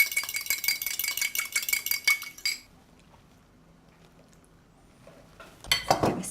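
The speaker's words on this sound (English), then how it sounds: "I'm going to give that a really quick whisk up." A quick whisk of a soy sauce, sesame oil and lime juice dressing gives rapid metallic clinking against a bowl. It stops abruptly, a quiet pause follows, then a short burst of clattering spoons.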